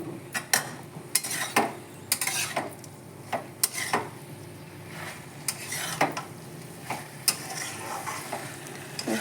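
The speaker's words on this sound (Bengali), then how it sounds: "একটু নাড়াচাড়া করে উপর থেকে সর্ষের তেল দিয়ে দেব।" Cauliflower stem curry cooked with mustard paste and raw mustard oil, stirred in a pan with a spoon or spatula: irregular scraping and clinking strokes over a soft, steady sizzle, close and clear without speech.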